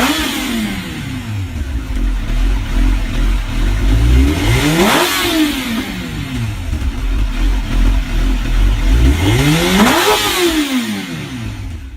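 Suzuki GSX-R1000 motorcycle, rated 178 horsepower, revs hard twice, each time climbing to a high, loud wail before dropping back, with a steady engine drone between the bursts and no talk.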